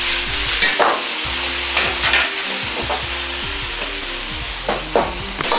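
Thickened sauce sizzling and frying steadily in a hot wok as oil is added, with repeated stirring scrapes and clinks over a constant close-up sizzle and no talk.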